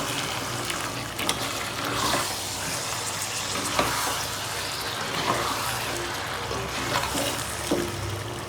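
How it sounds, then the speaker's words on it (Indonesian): Chicken being stirred in a frying pan for ayam lado mudo, a green chili chicken dish from Bukittinggi, West Sumatra; a steady sizzle runs throughout with scraping and clinking stirring strokes, close and fairly loud, and no one talks. "Setelah itu kita aduk"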